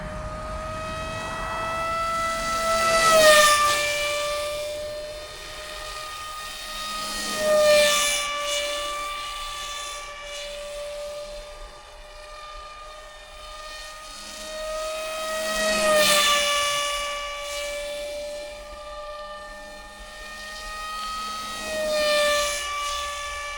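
Electric motor of an RC F-22 pusher model plane at full throttle, a steady high whine that swells and fades as the plane passes near and far again and again.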